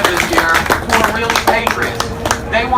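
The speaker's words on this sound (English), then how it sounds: "let's give them all a hand of applause" Scattered applause at an outdoor free speech rally in Boston, several people clapping unevenly under a loud, close crowd din with voices.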